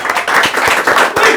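Hands clap in a short burst for the referee at a French game show, a brief run of close, uneven claps from a small audience.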